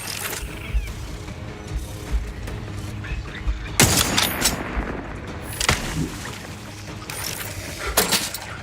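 Bursts of gunfire in The Outer Worlds 2, sharp volleys cracking out near the 4, 5.7 and 8 second marks over a steady mechanical game hum, with no talk.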